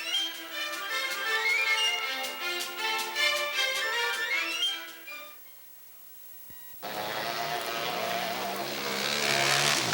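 ATV engines buzz and whine loudly as the machines race in a rally at Mount Snow, with a brief quieter gap before the roaring engine noise returns even stronger.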